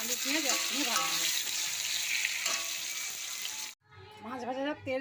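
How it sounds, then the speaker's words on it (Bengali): Brinjal slices fry in hot oil that was used for fish, giving a loud continuous sizzle and bubbling, then a sudden quiet gap before a voice continues over softer frying. "প্রথমে বেগুনটা ভেজে নেব।"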